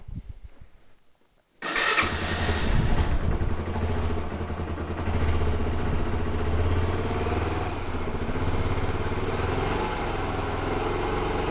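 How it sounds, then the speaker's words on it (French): A Yamaha YBR 125 motorcycle engine starts after a quiet moment and then runs at a steady, close idle with a loud, even chug that goes on without a break. "je fais tourner un petit peu ma moto"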